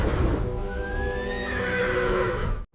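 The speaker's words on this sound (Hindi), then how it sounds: "इसके बाद ब्रह्मा जी ने घोड़े का शरीर बनाया।" Horse whinnying loudly and close, a long rising then falling neigh lasting over two seconds before cutting off abruptly, with no voices over it.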